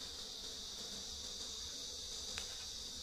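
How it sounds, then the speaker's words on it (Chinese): A dense, continuous whine of many mosquitoes hovers near a wild beehive at the foot of a mountain, steady and close throughout, with a brief sharper buzz passing near the end. "这个蚊子真的太多了啊"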